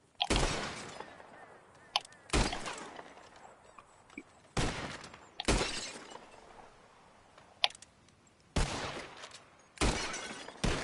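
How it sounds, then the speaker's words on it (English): Revolver shots shattering glass bottles in a Red Dead Redemption 2 shooting contest: about seven loud, sharp bangs with breaking glass, fired at uneven intervals with short quiet gaps between. "Whoever shoots more of these bottles wins. Just draw your gun and aim when you're ready"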